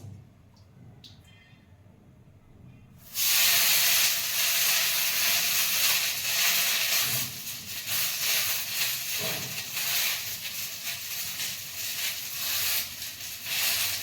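Curry leaves frying in a pan over low gas, a sudden loud hiss and sizzle bursting in after a few quiet seconds and crackling steadily on, with no talking.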